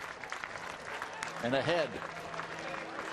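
Baseball crowd at a New York Yankees at Toronto game with the bases loaded, a steady roar of cheering and clapping swelling slightly, heard under a broadcaster's talk.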